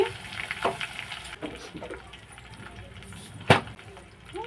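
Cumin, mustard seeds, chana dal and garlic crackle and sizzle in hot oil with an irregular spitting texture, punctuated by a sharp clink of utensil on metal.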